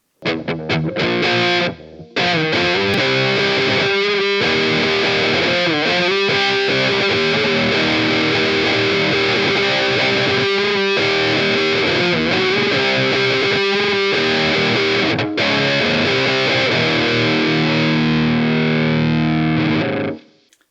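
Heavily distorted electric guitar chugs through loud, dense riffs with brief stops and restarts, sustained and saturated before fading out at the end.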